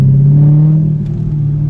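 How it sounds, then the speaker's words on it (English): Chevrolet Corvette V8 engine holds a deep, steady low rumble at close range, a brief sustained idle-like drone with little change in pitch. "listen to that V8"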